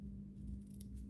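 Scissors trim ribbon on a handmade stamped card with a single quiet snip, close and faint over low room hum.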